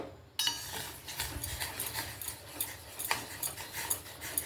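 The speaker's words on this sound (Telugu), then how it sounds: "ఇలా బాగా ఉండలు లేకుండా కలుపుకోవాలి" A spoon stirs ragi flour into boiling water, giving repeated scraping and clinking against the pot in a loose rhythm. The sound is close and steady, with no one speaking.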